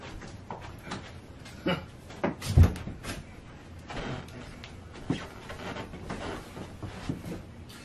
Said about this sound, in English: I got to go shut their door.